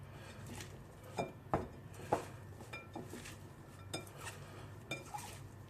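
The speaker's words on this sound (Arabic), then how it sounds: "نخلط الزلاطة." A salad dressed with salt and squeezed lemon being tossed in a bowl, giving quiet, uneven clinks and taps of utensils against the dish over a soft, rustling background.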